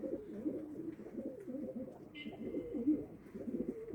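Low, rolling coos of a tumbler pigeon repeat steadily through the stretch, a soft continuous bubbling murmur with a brief faint higher tone partway through, moderately close and quiet.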